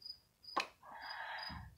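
A cricket indoors gives short bright chirps, a quick trill early on, then a sustained raspy chirp that runs on over a low background, fairly faint and with no talking.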